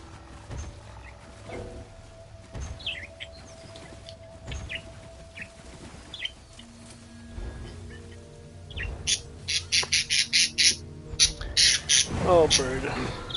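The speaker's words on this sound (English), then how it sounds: "Oh, bird." In Elder Scrolls Online, a string of sharp, rapid bird squawks rises near the end over in-game ambience and scattered sounds, and a person talks through part of it.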